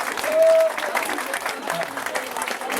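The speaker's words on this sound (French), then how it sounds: "Je pense qu'ils méritent très sincèrement des applaudissements." A short burst of applause from a crowd at an end-of-season dinner, fairly close, steady clapping throughout with a brief whistle-like tone near the start.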